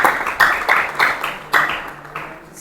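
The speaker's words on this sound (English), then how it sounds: "Please, let's clap for him." A small audience claps at a lecture, with several bursts of hand claps spread over a couple of seconds, loud and close, alongside some indistinct background voice.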